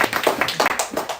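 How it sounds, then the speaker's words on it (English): An audience at a book release and open mic event claps in a short burst of quick, close hand claps, with no talking over it. "I want to applaud"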